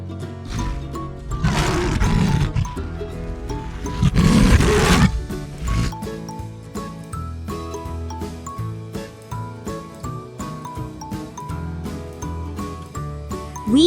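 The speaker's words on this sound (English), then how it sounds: "Yes, it's a lion." A lion roars amid a bright children's music bed, two loud sustained roaring bursts rising near the start and again mid-clip, while a jingly tune continues underneath to the end.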